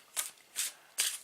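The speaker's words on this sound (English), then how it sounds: "I'm only shuffling them to select the cards for your 2 piles." Three soft, quick riffling bursts of a deck of cards being shuffled, evenly spaced and fairly quiet with no talking.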